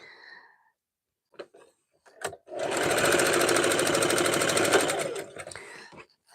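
A sewing machine stitches fabric strips for a rag or jelly roll rug, one close, steady run of rapid rattling needle strokes lasting a few seconds after some quiet shuffling, with no one talking.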